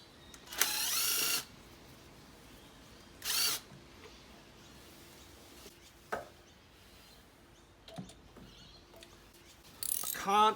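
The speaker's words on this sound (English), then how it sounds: "I'll have to get a ratchet handle onto the rear E10 screw there" Short bursts of ratcheting whir come and go with quiet gaps and light knocks between them, as a ratchet handle turns the rear E10 airbox screw on a Mercedes ML350 W164 with OM642 engine.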